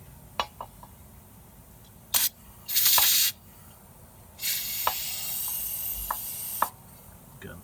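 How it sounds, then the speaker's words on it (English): Brake cleaner sprayed from an aerosol can onto wheel weight adhesive, heard as a short burst followed by a longer steady hiss of about two seconds, with a few light clicks and taps around it. "for this one, we'll use the brake clean"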